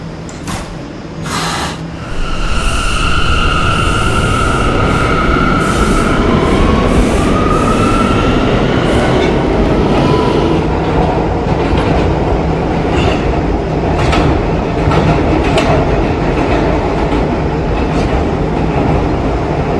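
An R179 E subway train in a Roblox game pulls away with a rising electric motor whine, then settles into a continuous loud rumble and rhythmic clicking of wheels over track joints.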